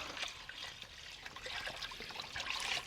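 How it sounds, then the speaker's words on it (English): Water is poured over a brisket in a pot for pastrami, a faint continuous trickle and splash with a soft swell near the end, no talking. "Need a little more water to make sure we cover it up"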